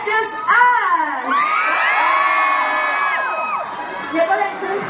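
A concert crowd at the world tour show at Zepp Kuala Lumpur screams and cheers loudly and continuously, with high shrill voices swelling together in one sustained roar.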